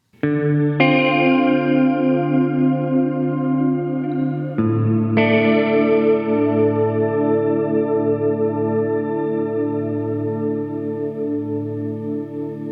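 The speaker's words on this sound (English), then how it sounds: "shimmer from 2 settings ago, but with a chorus effect added in" Sustained electric guitar chords through a Hardwire Supernatural pedal's shimmer reverb with a wavering chorus effect, two strums ringing out and slowly decaying.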